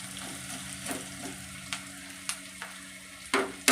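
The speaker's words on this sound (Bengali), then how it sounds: "পেঁয়াজগুলো আমার খুব লাল লাল করে ভাজা হয়ে গেছে" Onions frying in a pan give a continuous low sizzle, broken by several sharp scraping clicks as a utensil stirs them, close and clear with no talk.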